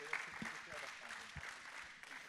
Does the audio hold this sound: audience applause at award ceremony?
yes